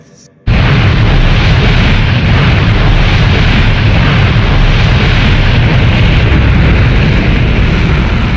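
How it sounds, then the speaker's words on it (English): A MiG-19 fighter blasted off a mobile launch site by a powder booster, a sudden roaring ignition that becomes a loud, steady, rumbling blast lasting several seconds. "The MiG-19 mounted on a mobile launch site was virtually shot into the sky with the help of a powder booster."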